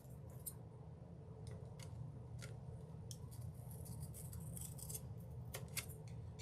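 Scissors snipping material for stained glass ornaments, a series of small, sharp cuts scattered irregularly over a soft steady background hiss, close but quiet, no talking.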